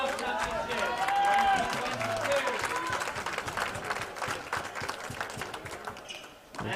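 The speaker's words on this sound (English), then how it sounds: "the Scots having the advantage of the home crowd cheering them on" A home crowd at the WSF World Doubles Squash Championships 2022 final applauds and cheers, a steady wash of clapping and voices from the stands with a commentator talking over it.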